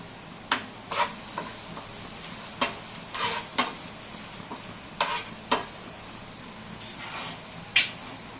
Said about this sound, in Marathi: प्रथम तेलात आपण पातीचा कांदा टाकून घेतला